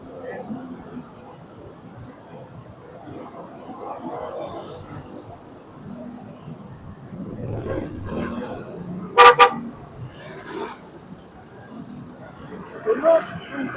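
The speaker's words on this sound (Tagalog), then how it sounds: "Traffic na talaga." Slow, congested road traffic idles and crawls along, low engine rumble under nearby talk, broken by a sharp pair of car horn toots and a few fainter honks later on.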